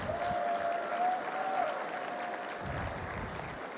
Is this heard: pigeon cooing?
no